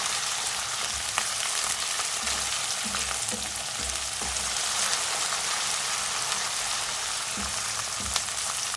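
Onions and garlic-ginger paste frying in a pan for a dhaba-style aloo matar curry, a steady close sizzle with occasional stirring clinks, no talking.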